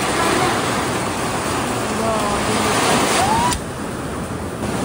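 Strong typhoon wind roaring through an opened window, a dense loud rushing howl that holds steady before dropping slightly near the end, close to the microphone with no talk over it.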